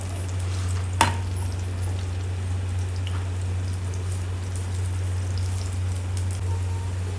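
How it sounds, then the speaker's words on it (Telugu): Vegetable pockets shallow-frying in a little hot oil in a pan until golden, giving a steady, close crackling sizzle over a low hum, with one sharp clack near the start and no talk. "ఇలా 2 సైడ్లు కాల్చుకొని గోల్డెన్ కలర్ వచ్చేదాకా ఇలా కాల్చుకోవాలి."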